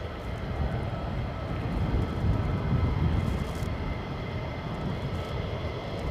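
A military jet, an F-15 or F-35, roars past at RAF Lakenheath: a loud, steady, broadband engine rumble that swells slightly midway and holds throughout without a break.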